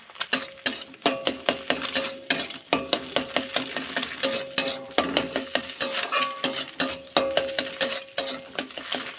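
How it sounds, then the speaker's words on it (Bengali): Eggs seasoned with turmeric being stirred and fried into bhujia in a pan, with a steady rhythm of metal scraping and clinking strokes that repeat close by, with no talk. "এবার এটাকে ভুজিয়া করে নেব।"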